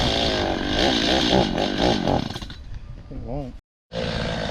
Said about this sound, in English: This chainsaw keeps toying with him. It'll let him touch the trigger, but then it dies.